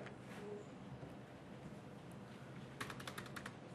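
Keystrokes on a computer keyboard entering a configure-terminal command on a Cisco router: a quick run of faint, close clicks near the end over steady low background hiss.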